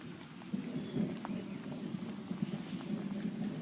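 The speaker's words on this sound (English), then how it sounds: "You probably could hear the rain." Steady rain falls and patters on surfaces, a constant dense hiss with scattered drips and low rumbling underneath, heard alone without voices.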